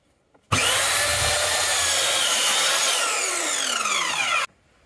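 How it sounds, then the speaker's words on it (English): A sliding mitre saw makes a 45-degree cut through wooden skirting board: one continuous, loud, close whining cut lasting about four seconds, starting abruptly and stopping sharply, with no voices. "We've got our big sliding saw that can do exactly 45-degree cuts and whatnot, which is very helpful. And we're going to do a mitre cut."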